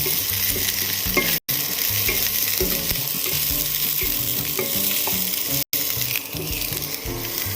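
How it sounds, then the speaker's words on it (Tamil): Okra sautés in oil for a dhaba-style bhindi masala, a dense, loud, close sizzle running throughout with frequent stirring knocks and two brief dropouts. "நல்லா அந்த எண்ணெயிலே ஒரு அஞ்சு நிமிஷம் வதக்கலாம்"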